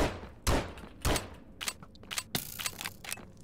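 Gunfire from hostile mobs in a modded Minecraft game, set in the Nether: two loud close bursts, then a string of sharper, lighter shots that crackle at mid distance over about three seconds.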